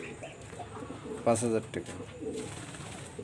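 A master breeding pair of pigeons coos softly and steadily at home, underneath a voice speaking briefly in the middle.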